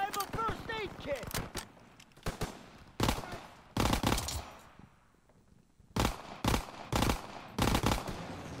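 Gunfire in the World War II shooter Call of Duty: WW2 comes in sharp loud bursts, several separate volleys with pauses between them, and speech-like sounds are heard early in the clip.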